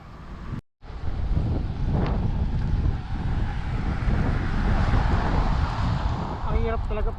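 Strong headwind buffets the microphone while cycling a hilly coastal road in Pagudpud, Ilocos Norte, a loud continuous roar after a brief cut, with faint talk near the end.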